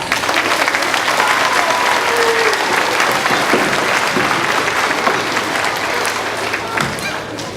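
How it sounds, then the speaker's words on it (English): Sustained applause from an audience at an elementary school Veterans Day assembly, steady dense clapping that fills the room throughout at a loud, even level. "Nice round of applause."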